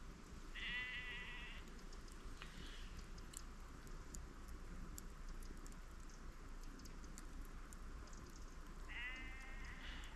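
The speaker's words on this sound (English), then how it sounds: "see the sheep over there on that little bit of a hill?" Sheep bleat across a valley, two distant calls, one near the start and one near the end, over a steady background hiss from wind or light rain.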